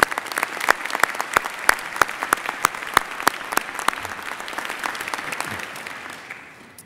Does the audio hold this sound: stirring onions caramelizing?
no